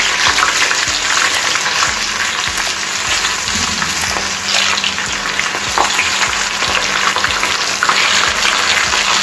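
Corn kernels frying in hot oil over a medium flame, a steady crackling sizzle that runs unbroken and fairly loud, with scattered sharper pops rising above the bubbling.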